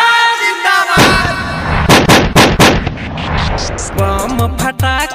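Diwali firecrackers and rocket bombs go off in loud, sharp bursts, several close together and then a rapid cluster, over a festive song with singing.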